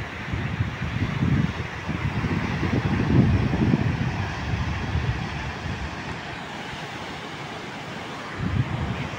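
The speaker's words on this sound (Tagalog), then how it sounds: "Lakas ng alon." Strong sea waves and gusting wind roll in a continuous broadband roar, with heavy surges of surf building and breaking close by, no voices.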